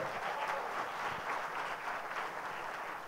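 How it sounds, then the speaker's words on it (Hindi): Audience applause greeting rank holders as they come on stage at a law coaching event, a steady dense clapping from a crowd throughout, moderately loud with no talk over it. "सभी का एक बार तालियां बजा के स्वागत करेंगे आप।"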